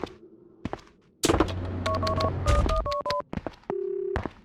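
Telephone keypad in the video game Max Payne 2 being dialed, a string of short electronic tones beeping in quick succession over a low ambient hum, followed by a longer steady tone.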